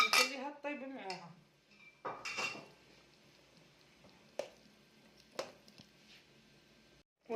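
Meat and fried potatoes go into a pot of soup with clanking metal, spoon scrapes and soft squishy thuds, a few sharp clinks standing out over quiet background.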